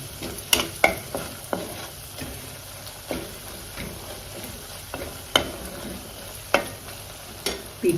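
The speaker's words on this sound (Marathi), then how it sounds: "एक दोनच मिनिट पीठ भाजून घ्यायचं हां पीठ मात्र भाजून घ्या कांद्याबरोबर" Flour roasting with onion in a pan for a bottle gourd kofta curry, a low steady sizzle punctuated by repeated sharp taps and scrapes of a spoon stirring against the pan.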